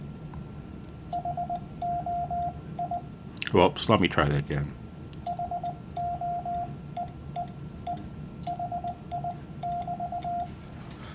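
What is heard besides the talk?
Morse code sent on radio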